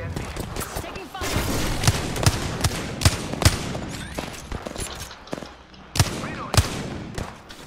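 Gunfire in the Apex Legends video game, a series of sharp bursts and single shots scattered irregularly across the stretch, some loud and close, mixed with game effects and a player's voice.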